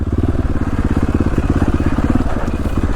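Dirt bike engine on a fog-covered Idaho mountain ridge ride with a group of Beta riders, a steady close throttling drone with rhythmic pulsing and rough clatter throughout, no talk.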